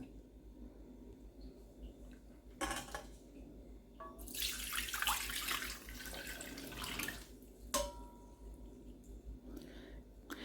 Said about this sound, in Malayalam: ഇനി നമുക്ക് ഒരു പാത്രത്തിലേക്ക് അരിച്ചു മാറ്റാം